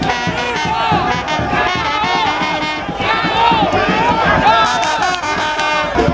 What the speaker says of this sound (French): une foule compacte, prête à tout pour exploser de joie